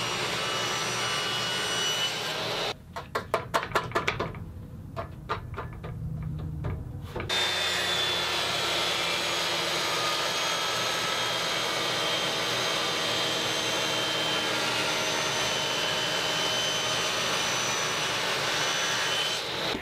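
A table saw cuts through acrylic with a loud, steady whine, preceded by a short stretch of rapid clicking, then the blade roars on continuously for many seconds without any talking.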